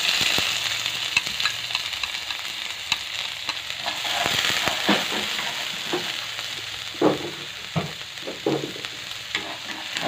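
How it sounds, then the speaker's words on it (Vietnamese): Dried shallots and garlic fry in a pan with a loud, continuous sizzle, punctuated by scraping stirs and occasional sharper crackles, close up with no speech. "mình sẽ phi thơm cái hành tỏi khô này lên"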